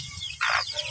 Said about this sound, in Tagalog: Napakaamo po ng manok na yan.